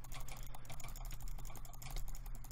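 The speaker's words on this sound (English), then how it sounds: "sorry guys if you can hear me, clicking rapidly" Rapid, continuous clicking from a computer mouse during PvP gaming, a dense fast clatter with no talking, heard over a low steady hum.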